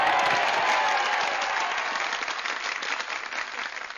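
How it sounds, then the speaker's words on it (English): An applause sound effect track played on a radio show, a steady wash of crowd clapping and cheering that slowly fades over a few seconds, heard alone without talk. "Can we add an applause track right there?"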